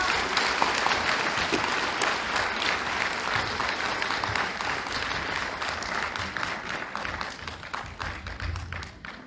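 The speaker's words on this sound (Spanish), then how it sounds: "Recibamos con un fuerte aplauso a nuestro expositor" At a diocesan Eucharistic congress, an audience welcomes the speaker, Father Enrique Juárez Bernal, with strong, dense applause that gradually thins and fades toward the end.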